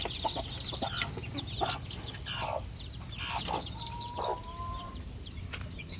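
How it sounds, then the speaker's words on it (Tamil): Native country chickens cluck and chirp inside a farm coop, with repeated high calls and soft scattered clucks over a low steady background, close by and unaccompanied by speech. "உள்ளே இருக்கிறாங்க கோழிங்க."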